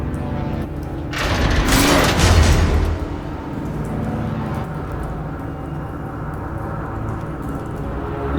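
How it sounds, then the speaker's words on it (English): In the Batman Telltale video game, a loud explosion bursts out in a broad roaring blast and then fades into a long rumbling hiss of falling debris, with no one speaking. "A normal bullet couldn't have caused that explosion."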